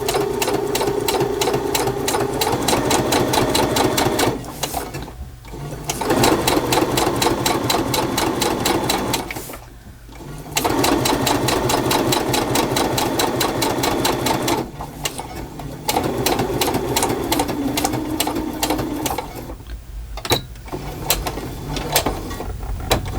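A sewing machine back stitches on a junk journal tea bag and sugar holder, whirring loudly and close in continuous bursts broken by several brief pauses, with no voices.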